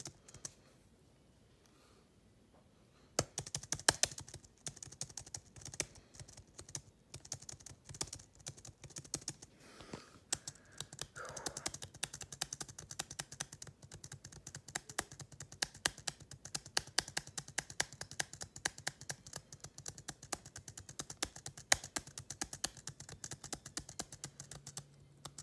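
A computer keyboard's space bar is clicked over and over in a fast, steady stream of sharp taps that starts after a few seconds of near silence and continues without pause, close and fairly loud, with no talking.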